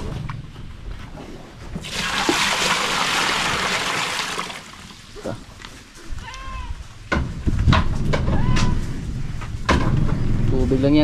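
Water poured from a bucket splashes loudly for a couple of seconds at a farm pen, while goats bleat nearby and people talk.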